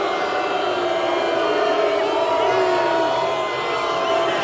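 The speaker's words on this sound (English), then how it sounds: "Let the crowd tell you how they feel about it" A crowd at the 1989 IJSBA World Jet Ski Finals at Lake Havasu City reacting to a ruling, a steady roar of distant voices and whistles with jeers rising and falling, no clear commentary.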